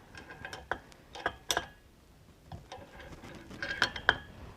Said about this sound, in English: So we are just going to loosen the screws that are in there.